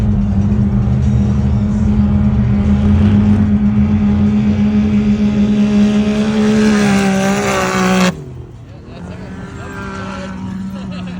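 A stock Can-Am Maverick off-road car climbs a sand dune hill at Glamis, its engine droning loud and steady with rising pitch before cutting abruptly to a lower idle-like rumble near the end; voices are faint underneath.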